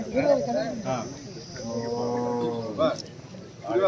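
A cow moos loudly and close at a livestock camp held to control foot-and-mouth disease, one long drawn-out low call in the middle with other bovine grunts and rural background noise around it.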